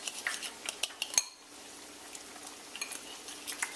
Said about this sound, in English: all you want to do is whisk that together